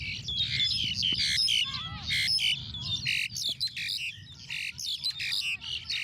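Four lovebirds squawk and scuffle right beside an effects microphone at a cricket match at PKVR Reservoir on a Thursday morning, loud harsh chattering calls in dense rapid bursts over low background noise.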